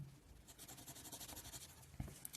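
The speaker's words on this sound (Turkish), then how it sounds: "kurşun kalemle boyayacağım" A graphite pencil rubs back and forth across paper while colouring in a square, a soft, close, continuous scratching patter with one brief knock near the end.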